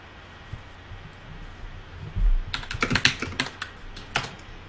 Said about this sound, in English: all you can hear from both of us at the moment is the rapid typing on mechanical keyboards